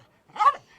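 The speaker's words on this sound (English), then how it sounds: "get that dog to shut up" A single loud, sharp dog bark sounds up close and is gone in under half a second, standing alone against silence in a tabletop SWAT role-playing session.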